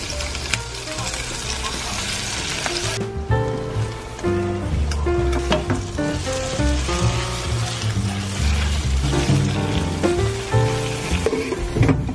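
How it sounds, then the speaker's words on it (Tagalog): Spinach tossed into hot oil left over from frying salmon steak hisses and crackles steadily, a loud, dense sizzle that carries on for the whole stretch, with faint stirring sounds. "Then, yung pinagprituan, dyan natin lulutuin yung ating side dish. Spinach. Hulog lang."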